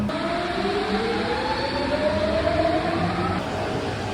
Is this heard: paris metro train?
yes